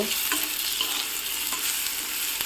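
Water lily stalks stir-fry in a pan with a close, continuous sizzle and a few brief stirring scrapes over it, with no talking.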